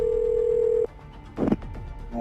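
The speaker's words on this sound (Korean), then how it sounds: "이들은 대체 누굴까? 직접 전화를 걸어봤습니다." Ringback tone of a telephone call placed to an unfamiliar number, one steady buzzing ring held for almost a second and then broken off, followed by faint line noise and a brief muffled rustle.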